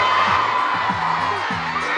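A festival crowd cheering and shouting hooray together at a seaside Neptune Day celebration, loud sustained massed voices with rhythmic chanting bursts throughout.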